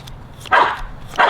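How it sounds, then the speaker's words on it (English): A puppy barks at the neighbour's dog, giving two loud, close, sharp barks about half a second apart, with no talk. "Talking smack to that dog next door."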